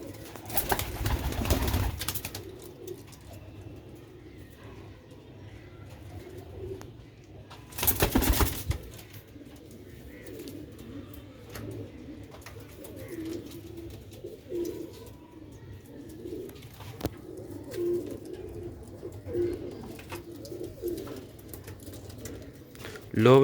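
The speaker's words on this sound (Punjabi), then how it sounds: "ਬਹੁਤ ਹੀ ਤੇਜ਼ ਕਬੂਤਰ ਹੈ ਮਾਸ਼ਾਅੱਲਾ" Sialkot pigeons of an old-lineage breed cooing softly in a quiet loft, low rolling coos repeating through the stretch, with a couple of louder bursts of handling noise and faint voices.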